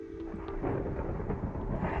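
Deep, continuous rumbling thunder from a Minecraft thunderstorm, a steady low roll that swells slightly midway and holds for two seconds with no voices.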